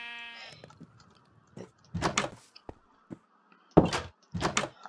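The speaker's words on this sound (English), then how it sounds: "There's a fucking sheep." A Minecraft sheep bleats several times in short wavering calls, fairly close and clear, separated by quiet gaps with a few soft thumps from in-game movement.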